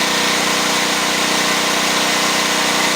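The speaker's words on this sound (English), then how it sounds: "generator running. No miss." A generator engine, repaired after a bad miss with a replaced governor gear, running steadily at a constant, loud hum, with no misses or changes in pitch.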